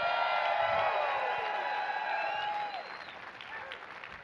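A large live crowd at a campfire storytelling event roars with sustained applause and cheering, dense clapping and whoops filling the space before gradually easing.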